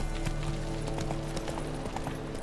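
Steady clip-clop of the horse Roach galloping in The Witcher 3, a quick rhythmic run of hoofbeats, close and continuous over a droning musical background.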